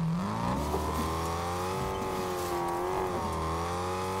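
A car driving in the video game Fortnite gives a steady droning engine whine that holds a fairly even pitch, dips slightly partway through, then carries on at a moderate level with no voices.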